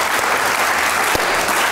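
Loud, close applause from a studio audience at a comedy talk show, a thick continuous wash of many hands clapping with no pause and no talking.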